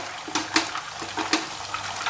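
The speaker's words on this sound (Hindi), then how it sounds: "मैंने अभी लगभग ये 200-250 ml पानी डाला है इसमें।" Water splashes into Bengali fish masala cooking in mustard oil, coming in several uneven, close gushes and spatters over a constant hissing sizzle.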